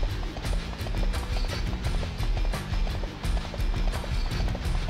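Hooves beat in a fast, steady galloping rhythm as a horse runs in the Dynasty Warriors 3 battle game, loud and continuous for the whole stretch, layered over a busy battlefield din.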